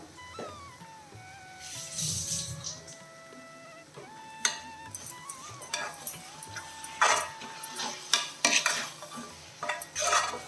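Ground masala sautéed in a pan, stirred with a metal spoon that scrapes and clinks at irregular intervals, close and moderately loud, with soft sizzling and a faint tonal whine in the background.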